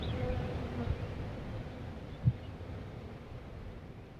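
Honeybees hum in a soft, steady drone close by, with a couple of faint bumps breaking the buzz, during a hive inspection of frames.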